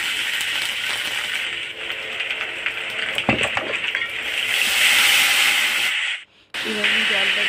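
Water poured into a hot pan of spiced puti fish curry base sets off a loud, continuous sizzling hiss up close, cut off briefly near the end before resuming.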